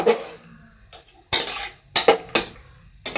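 Potatoes being stirred and turned in a pan for a Bengali potato curry: a series of sharp metal scrapes and clinks of a spatula against the pan, loud and close, separated by short pauses.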